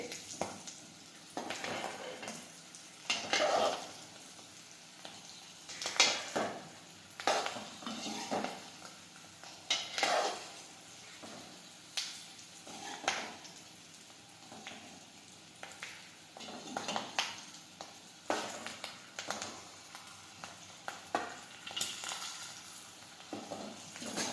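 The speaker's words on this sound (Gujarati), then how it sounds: "મરચાં એકદમ તળાવવા દેવાના છે" Green chillies fry in a pan while a spoon stirs them at intervals, giving soft sizzling under repeated scraping and clinking strokes against the metal, fairly faint and without talk.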